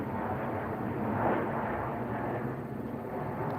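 A loud airplane flying overhead, a broad, steady roar that swells slightly in the middle and stays strong throughout.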